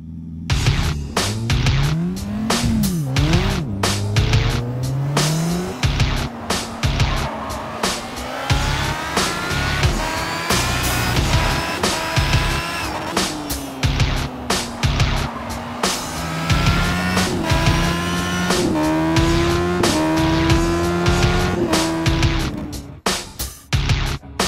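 Formula SAE race car lapping a track, its engine loud and close throughout, rising and falling in pitch through repeated upshifts and a run of downshifts into a corner, then pulling hard back up through the gears onto a long straight.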